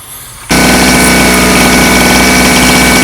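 A 2 kW inverter petrol generator engine catches after a moment of quiet and runs on loud and close, a steady buzzing drone with constant vibration.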